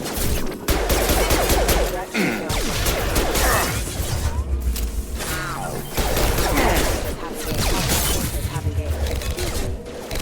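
Gunfire in the sci-fi video game Mass Effect 2 rattles loudly and nearly continuously, mixed with impacts, crashes and game effects, while voices speak over the battle.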